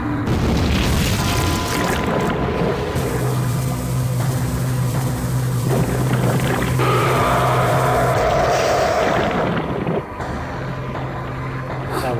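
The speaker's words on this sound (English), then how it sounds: "homing missiles." Homing missiles in the video game American McGee's Alice rumble and whoosh with loud, sustained booming blasts and roaring texture, continuous and dense throughout.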